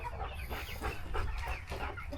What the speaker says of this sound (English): Y'all hear that Americana chicken? They make the funniest noise.